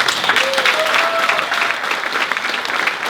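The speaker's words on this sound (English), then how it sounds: "So give them a big clap, please" Wedding guests break into loud applause for two helpers at the reception, a close, full burst of clapping with a few cheers and voices mixed in, holding steady throughout.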